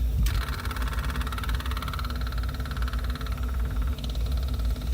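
The generator engine of a Class A motorhome hums steadily at a constant, moderate level, with a brief higher whine as it catches at the start.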